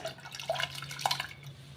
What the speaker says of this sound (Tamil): இப்படி கழுவிக்கோங்க இதை ஒன் டைம் கழுவிட்டு